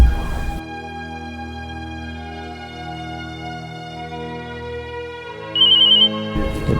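A mobile phone rings with an incoming call, a steady electronic ringtone melody repeating for several seconds and growing louder near the end.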